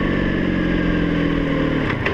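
Motorcycle engine running steadily and rough, sputtering as a dying fuel pump starves it of gas, a continuous close drone with no talk.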